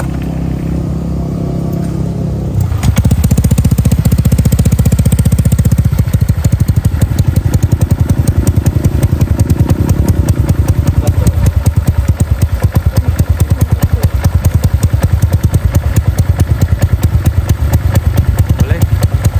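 An older Honda Vario LED scooter engine sits quiet at first, then starts and settles into a steady, close idle with a soft, even putter and a few light revs.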